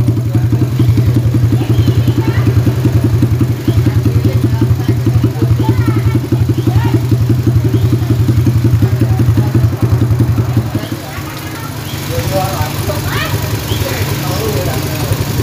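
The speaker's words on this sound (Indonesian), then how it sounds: "sekarang kita gas, tapi dengan kondisi knalpot kita tutup soalnya kenceng banget kalau tidak ada knalpotnya ya." A Suzuki Shogun motorcycle engine with its exhaust covered runs with a loud, rapid, steady throb that drops off sharply near the end into a quieter idle, with clattering and people talking over it.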